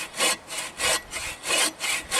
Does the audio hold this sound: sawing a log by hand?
yes